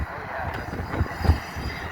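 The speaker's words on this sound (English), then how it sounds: "Old Acela and a nice CSX freighter." An old Amtrak Acela and a CSX freight train pass through Drexel Hill station together, giving a steady low rumble of rail traffic with faint rhythmic wheel clatter, close and continuous.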